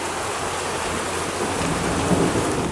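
Rain and thunder from a storm at a campsite in Lake Brownwood State Park, a continuous broadband roar of rainfall with a low rumble swelling near the end, close and loud with no voices.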